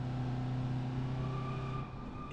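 Car engine in BeamNG.drive, the winter release update, droning steadily with a low harmonic hum, then easing slightly near the end, close and alone with no talk.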